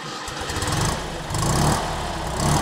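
Small two-cylinder engine of an old Fiat 500, started by pull-cable, catches and runs with a loud, lumpy, pulsing chug that surges twice, close up and without talk.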